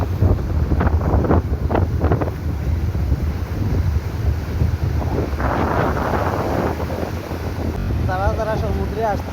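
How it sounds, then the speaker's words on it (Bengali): Large waves roll onto the shore at night under strong wind, with a heavy low rumble of wind buffeting the microphone and the surf surging. Someone talks over it in places. "এই ঢেউগুলো দেখেন কত বড় বড় ঢেউ"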